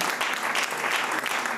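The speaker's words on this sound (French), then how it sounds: "est-ce qu'on peut acclamer pour vous?" A church congregation at a night worship service bursts into dense, loud applause, a steady wash of many hands clapping together throughout.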